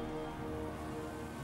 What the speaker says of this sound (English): because it's raining, the sound's going to be messed up